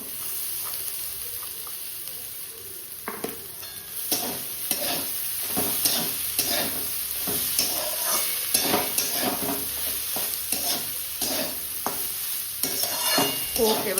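Rice being stir-fried in a pan, with steady frying sizzle and hiss under repeated scraping strokes of a spatula, close and fairly loud, growing busier after the first few seconds.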